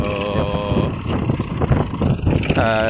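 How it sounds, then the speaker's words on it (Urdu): A tractor unloads buffalo and cow dung into a newly dug fish pond that is still dry. Its engine drones loud and close throughout, with a steady low rumble and some wind buffeting. "ٹریکٹر کے ذریعے اس کا ہل وغیرہ چلا کے تو اب اس میں یہ گوبر اتروایا جا رہا ہے اندر تالاب میں"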